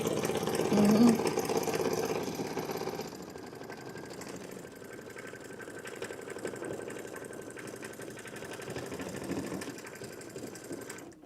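An embroidery machine blanket-stitches a design with a fast, steady mechanical chatter, louder at first and then settling into a quieter, even running rhythm.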